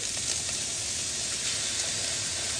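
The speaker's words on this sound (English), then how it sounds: "I'm just adding my shredded potatoes right into this pan" Shredded potatoes hit a hot frying pan already holding onions and crackle in a steady, close, loud sizzle that hisses evenly throughout with no talking.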